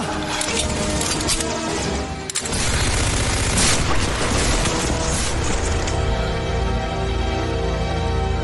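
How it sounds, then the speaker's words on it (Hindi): Dense, loud bursts of rifle fire crackle in rapid succession, sounding like a sustained volley, with tonal sounds ringing underneath toward the end. "गोली चला"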